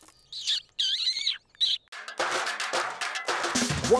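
A cartoon baby bird lets out a few high, bright chirps in quick succession, followed by a burst of noisy cartoon sound effects.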